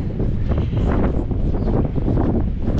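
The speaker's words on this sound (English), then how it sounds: "I know it's windy." Strong wind on a farm buffets the microphone in a loud, continuous low roar with gusty fluctuations and no voices.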